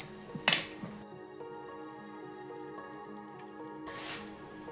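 Buttermilk, molasses and melted butter stirred together in a bowl give soft, wet squishing and sloshing, a sharper splash near the start and another near the end, close and fairly quiet.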